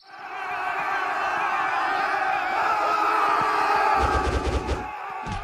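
An angry village crowd attacking and beating a man, a dense surge of shouting voices that swells and stays loud, ending in sharp percussive blows and cries.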